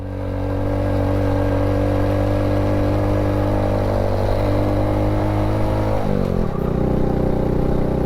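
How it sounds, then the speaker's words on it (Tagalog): A motorcycle engine labors steadily while climbing a dry mountain dirt road in Bacon, Sorsogon, Philippines, a loud, close drone with clattering, shifting pitch briefly near the end before settling back. "Pinapakaramdaman ko mga tol yung makina ng motor."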